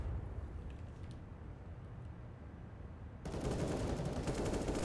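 Gunfire in a video game playtest map starts partway through as a burst of rapid, dense shots, following a quieter stretch of low rumble and faint ambient noise.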